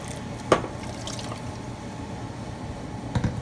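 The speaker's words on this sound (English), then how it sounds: "So I'm adding 4 cups of water to it" Water pours steadily into a pot of kadhi, a yogurt curry made with pakoras, as a continuous close splashing fill. A couple of brief louder splashes stand out.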